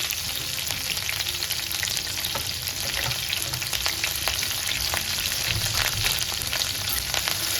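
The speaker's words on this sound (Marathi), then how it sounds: "मोहरी टाकायची जिरे कढीपत्ता हिरवी मिरची" Mustard seeds, cumin, curry leaves and green chilli sizzling loudly in hot oil in a pan for vermicelli upma, a dense continuous frying hiss with light crackles and stirring throughout.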